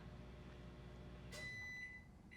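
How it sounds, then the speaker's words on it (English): A household microwave oven runs with a steady low hum, then a short burst of noise from the door or controls followed by a sustained high electronic beep. "This is my microwave."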